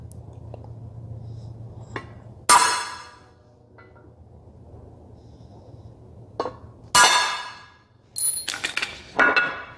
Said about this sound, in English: I'm going to center punch